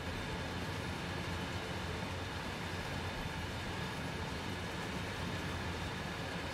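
A train in the video game Train Sim World 2 runs steadily, a constant broadband rumble of wheels and rail noise at even level with no talk over it.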